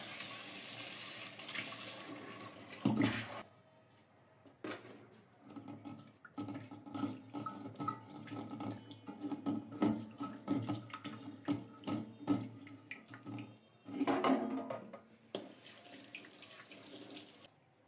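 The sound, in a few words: tap water washing fish pieces in a sink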